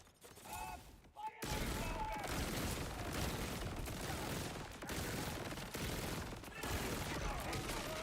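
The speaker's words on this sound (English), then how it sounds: "There's the grenade going on." Loud video game combat in Borderlands-style vault hunter action, a grenade blast amid dense overlapping gunfire that starts abruptly after a brief quieter moment and keeps rumbling and crackling close up throughout.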